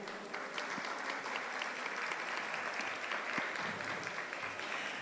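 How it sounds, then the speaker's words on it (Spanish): A room full of people at a heritage-guardians gathering breaks into steady, dense applause welcoming the speakers, sustained at even loudness throughout with no voices on top. "les damos la bienvenida con un fuerte aplauso"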